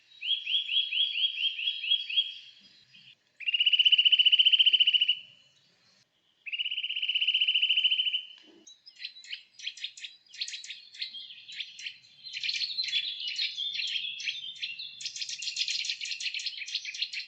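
A nuthatch gives loud, excitable calls: a rapid, clear trill, then two long sustained whistles, then a long run of quick, sharp repeated notes. It is close and heard alone.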